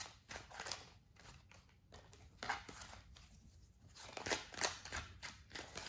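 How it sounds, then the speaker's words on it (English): Tarot cards being shuffled by hand, a run of soft papery riffles and shuffles in uneven bursts, close and fairly quiet with no talking. "I do like to do all my shuffling on camera so you can see what I'm doing"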